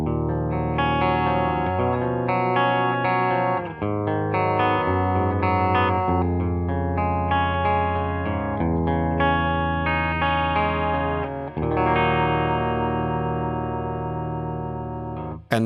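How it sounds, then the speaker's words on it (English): A clean electric guitar, a Les Paul with P90 pickups, plays chords and melodic phrases with sustained, ringing notes and a touch of amp reverb, steady and prominent with no voices. "Here's my clean sound. I'm using my P90 loaded Les Paul."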